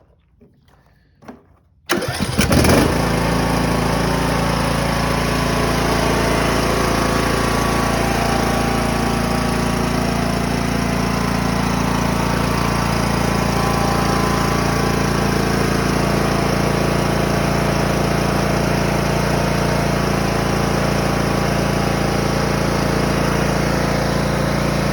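A newly installed replacement engine on a Cub Cadet lawn mower, freshly filled with synthetic oil, cranks briefly after a few faint knocks, then catches and runs at a loud, steady idle close by with no talking.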